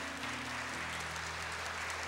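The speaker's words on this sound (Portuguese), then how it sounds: "Pode aplaudir a palavra do Senhor." A church congregation applauds during a Mass, the clapping faint and distant as a steady wash of noise over a low electrical hum.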